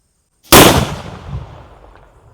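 A single nattu vedi, a country firecracker, goes off with a sharp, loud bang, then a rumbling echo fades over about two seconds. No voices are heard.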